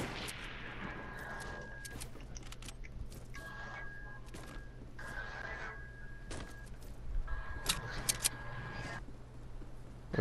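Video game gunfire rattles in repeated bursts over a steady low hum, with bright sharp cracks scattered throughout and the densest volleys near the end, no talking.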